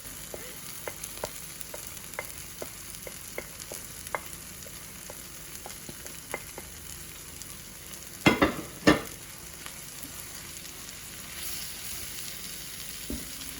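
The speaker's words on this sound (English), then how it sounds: "Stir in all the spices until it becomes a nice thick paste." Tomato puree and spices for a chickpea and spinach curry sizzle gently in a pan, with soft scattered stirring taps and two louder scraping strokes near the middle; quiet and close, no one talking.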